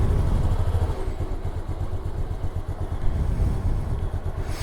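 A Honda Activa 3G scooter with about 185,000 km on it idles after a cold start, its small engine giving a steady, close, low-pitched putter with a faint clatter throughout and no talking.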